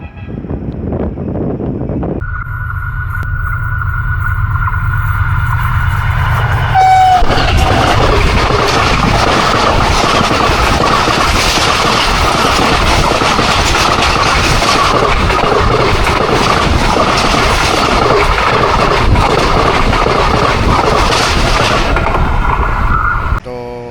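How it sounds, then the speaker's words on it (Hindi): Bahauddin Zakariya Express train rushing through Sher Shah Junction on the main line during a thunderstorm, a loud sustained roar of wheels and cars with a steady horn-like tone, continuous and close for most of the passage. "लें जनाब, एक और तूफ़ान बहाउद्दीन ज़करिया एक्सप्रेस की सूरत में।"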